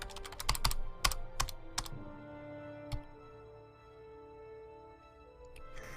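Computer keyboard keys are pressed in quick clustered clicks, then a few isolated taps, while the space game Elite plays with a quiet electronic hum underneath.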